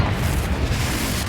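Confringo fire-blast spell from the Hogwarts Legacy video game, a dense, continuous rumbling boom with a sustained explosive roar filling the whole moment, loud and close with no talk.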